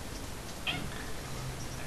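A pet cat meowing indoors, a single short faint meow briefly rising over a steady background hum.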